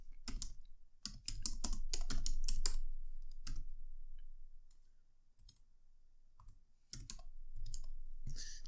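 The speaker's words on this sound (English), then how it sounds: "so let's type that in." Keys on a computer keyboard clatter in quick bursts as an answer is typed, with short pauses between clusters of clicks, close and fairly soft.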